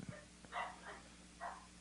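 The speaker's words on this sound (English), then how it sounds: "I hear dogs." Several dogs bark in a few short bursts at a distance, faint and slightly muffled behind a steady low background hum, with no one talking.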